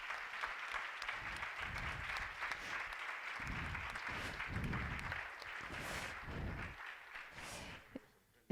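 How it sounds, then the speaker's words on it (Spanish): Audience at a scientific conference on liver and digestive diseases applauds prize winners, a sustained, dense clapping from a seated crowd that swells and fades over several seconds before trailing off. "si les podemos dar un aplauso quizás"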